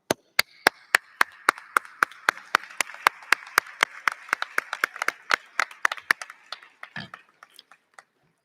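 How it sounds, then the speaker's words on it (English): Nursing graduates at a pinning ceremony applaud their faculty: one crisp, steady run of close claps rides over a softer wash of crowd applause that thins out toward the end. "give you all an applause"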